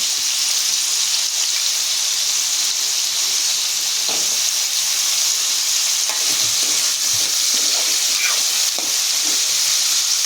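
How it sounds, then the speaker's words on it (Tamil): Chopped potatoes sauté in hot oil in a pan, a steady dense sizzle that holds at even loudness throughout, close up, with a few faint stirring scrapes and no talking. "இங்கே எண்ணெயில் உருளைக்கிழங்கு அரிஞ்சு வச்சு அதை இந்த பக்கம் வதக்கிட்டு இருக்கோம்"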